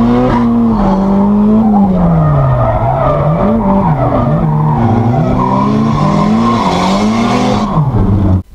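A Nissan Silvia with an S20 engine revving hard while the clutch slips, its pitch wavering up and down in a loud, continuous whine that cuts off abruptly at the end.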